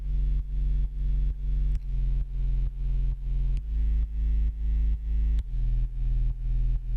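Synth bass built from two sine waves with an inverted sub layer and tube distortion, pumping in a steady rhythmic pattern of short repeated notes, deep and loud on its own with no talking.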